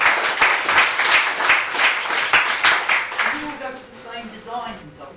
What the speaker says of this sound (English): So can everybody give the sponsors a round of applause